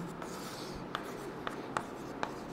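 A teacher writes quickly on a classroom board during a chemistry lesson, with four or five short, crisp strokes in quick succession and no talking.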